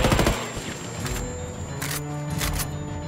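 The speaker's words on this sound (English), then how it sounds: "He's shooting at me." Enemy gunfire in Ghost Recon Wildlands during a boss fight, heard as a few sharp bursts at mid distance over a steady game soundscape, with no talk over it.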